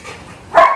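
Single short bark from a mixed-breed Labrador dog in training, a sharp close yelp after a moment of low background noise.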